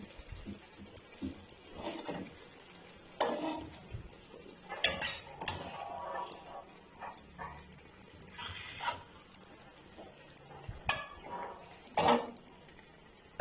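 Fish curry pieces turned over in a flat pan, with scattered clinks and scrapes of a utensil against metal, a few sharper knocks, and soft sizzle underneath, moderately quiet and close.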